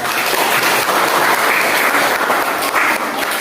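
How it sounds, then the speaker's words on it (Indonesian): A class of teacher trainees claps together during a lesson, a short, steady burst of close, even applause with no talking over it. "Tepuk tangan dulu"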